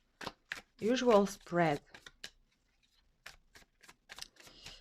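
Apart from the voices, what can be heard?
shuffling tarot cards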